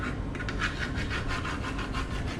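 Steady rhythmic rasping of sandpaper rubbed back and forth across wood, close and continuous with quick repeated strokes.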